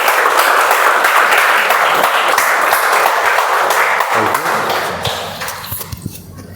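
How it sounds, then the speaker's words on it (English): A meeting audience claps for a Toastmaster taking the stage for a speech, steady dense applause that holds loud for several seconds before thinning into a few scattered claps. "Big round of applause for him."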